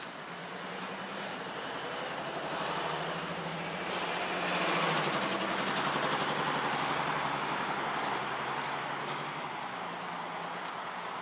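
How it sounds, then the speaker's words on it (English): A heavy vehicle engine rumbles steadily and fairly loud for several seconds, swelling slightly midway, with a rattling, clattering texture and no voices. "Truck sound like shit."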